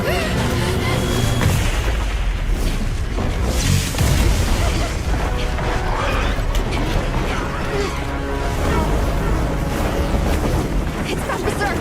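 Dense, continuous gunfire and heavy booms fill a Monster Hunter Wilds battle, loud and unbroken with layered explosions and mechanical clatter throughout.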